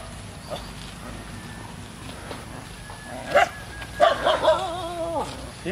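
A dog barks and yips a few times in the later part, over steady outdoor background noise.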